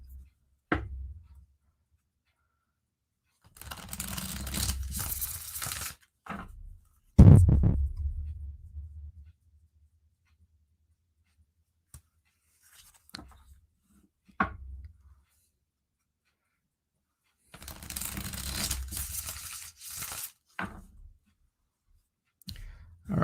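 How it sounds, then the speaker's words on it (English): Tarot cards are shuffled in several separate bursts of riffling and rustling, separated by near-silence and a few soft taps and thumps. "I'm going to shuffle for a minute"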